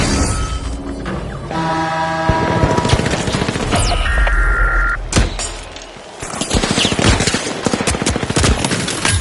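Rapid automatic gunfire in The Finals, loud sharp bursts and sustained volleys with mechanical clatter and a brief lull before shooting resumes, close and dominant throughout.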